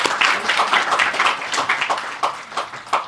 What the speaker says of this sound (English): May I request everyone to give a big round of applause for sir.